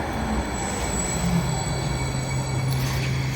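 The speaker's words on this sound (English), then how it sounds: "There's a train coming in" A train rolls into a station with a steady rumble while its wheels squeal in a thin, sustained high whine near the platform.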